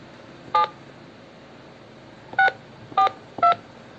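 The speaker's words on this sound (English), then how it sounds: "I am going to call the numbers" Telephone keypad dialing tones while calling a number: four short, sharp beeps, one alone and then three in quick succession, clear and close over a faint steady background hiss.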